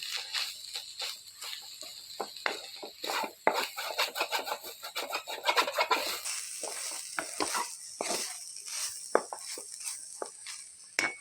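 Grated coconut frying slowly on low heat while being made into coconut sondesh, a soft sizzle broken by many quick scraping stir strokes, close and fairly quiet.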